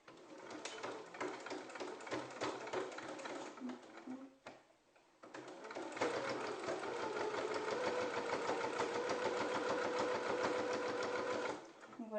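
A domestic sewing machine stitches a fabric face mask half a centimetre from the edge through several layers, whirring in a steady run, pausing briefly, then running longer and faster, with a voice talking over it.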